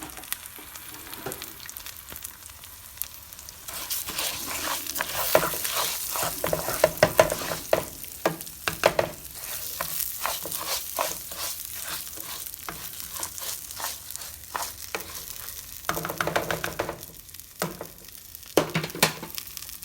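Rice browning in oil in a pan for Mexican rice, with a steady sizzle and frying crackle plus occasional stirring scrapes, close and continuous with no talk.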